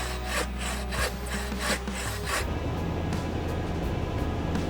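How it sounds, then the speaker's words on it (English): Hand saw rasping through the trunk of a large tree on a mountain trail, a steady back-and-forth stroke rhythm up close that breaks off into a rougher scraping texture partway through. "Danny started cutting the tree but got tired, so Jared took over."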